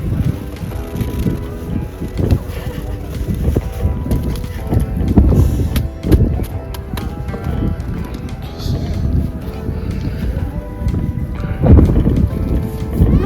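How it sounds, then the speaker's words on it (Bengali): Strong wind whips across snowy Rohtang Pass, a high mountain pass near Manali, roaring as loud, gusty buffeting and low rumble against the microphone for the whole stretch, with a heavier surge near the end. "হাওয়া দেখো জাস্ট তোমরা, বিভৎস হাওয়া চলছে, বিভৎস।"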